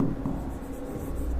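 A short burst of chalk or marker scratching across a classroom board during a physics lecture, close, fairly quiet and continuous for just over a second with no voices.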